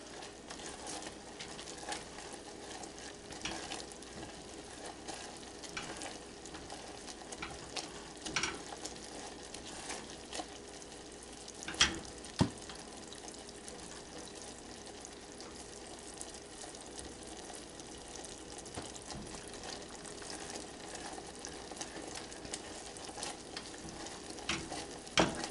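Butterscotch fudge is stirred in a pot, a soft continuous bubbling sizzle with faint scraping and a few sharper clicks of the spoon, steady and fairly quiet throughout.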